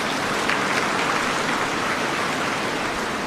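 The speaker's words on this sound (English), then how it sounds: "I think she deserves a second round of applause" A large audience at an East African Community official ceremony in Tanzania gives sustained applause, a continuous, even roar of many hands clapping at a distance, with no voices standing out.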